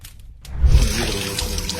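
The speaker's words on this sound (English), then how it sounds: "someone placed a piece of paper under the flowing water from a hand pump" Water flowing from a hand pump onto a piece of paper, a brief quiet moment and then a close, steady rushing splash that continues to the end.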